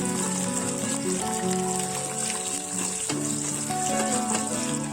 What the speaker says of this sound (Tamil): நெய் லைட்டாக சூடானதும் அதில் வந்து முந்திரியும் திராட்சையும் நான் சேர்க்குறேன்